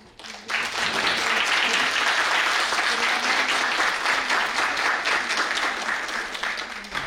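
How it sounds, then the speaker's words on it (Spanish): An audience at a formal event applauds a speaker, a sudden burst of dense clapping that holds steady for several seconds before tapering slightly. "Démosle un fuerte aplauso."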